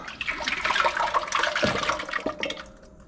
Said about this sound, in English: take my juice, pour it in my stock pot